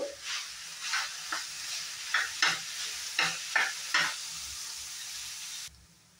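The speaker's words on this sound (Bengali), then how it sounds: "একটু হলদি পাউডার দিয়ে দিলাম। এখন একটু সময় ফ্রাই করে নেব।" Beans and potatoes frying with turmeric powder in a pan for brinjal chops, with a soft steady sizzle under repeated spatula scrapes in a loose rhythm, close and moderate, stopping abruptly near the end.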